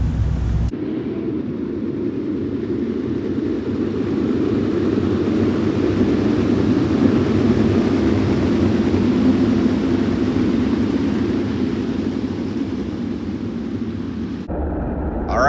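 A race car engine at Knoxville Raceway accelerates, heard as a loud, steady, broadband engine roar that holds for about fourteen seconds before cutting off abruptly.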